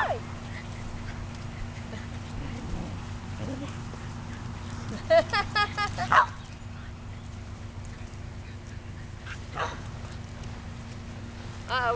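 Sheltie puppies give a short burst of high yips and barks partway through, followed later by a fainter yelp, over steady background noise and some talk.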